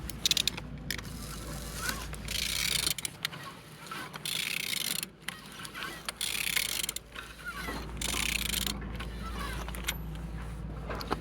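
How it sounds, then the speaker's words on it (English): An aircraft engine is turned over with close mechanical clicking, rattling and scraping, heard over a steady low hum with brief pauses. "Turning your engine"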